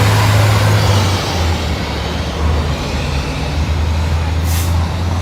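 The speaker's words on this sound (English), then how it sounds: "Loud fire truck going by, or dump truck." A loud fire truck or dump truck rumbles past on a hot street in Etobicoke, Toronto, its low engine roar steady and close throughout, with a brief hiss of air brakes near the end.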